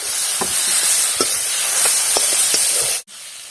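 Tomato dropped into hot oil for an Assamese fish curry, giving a loud steady sizzle and hiss with small pops and crackles, close by, cutting out abruptly near the end before resuming.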